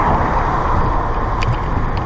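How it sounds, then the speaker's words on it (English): A car driving along a road near a cyclist, a loud steady rumbling roar with broadband road noise close by throughout. "I can hear another car."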